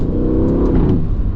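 A used Aston Martin Vantage sports car engine revs hard and loud, a sustained throaty roar close up.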